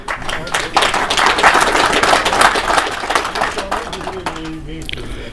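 Audience applause at an Urdu literary conference for fiction writer Waheed Saeed, a steady burst of many hands clapping that swells and then fades, with a voice over it near the end.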